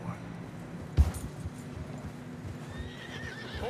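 Horses trudge through deep fresh snow in Red Dead Redemption 2, giving a snort or whinny and soft plodding hoof sounds under quiet wind and ambience.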